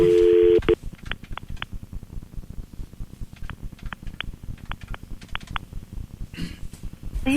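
A string of touch-tone keypad beeps dials a telephone number, the short tones falling in quick irregular groups over a steady low hum, with a longer tone at the start.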